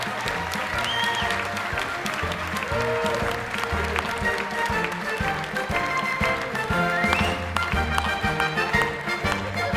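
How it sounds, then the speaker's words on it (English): A luncheon audience at a United Way of Long Island celebration claps steadily while music with a low beat plays underneath, the applause dense and sustained for the whole stretch. "a round of applause for Teresa Ignati, CEO and President of the United Way of Long Island"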